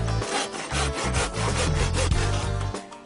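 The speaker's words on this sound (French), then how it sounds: "Ça, c'est parce que vous utilisez trop le bout de la scie." Hand saw cutting pallet wood in quick, rhythmic back-and-forth strokes, about two per second, close and loud with no talk.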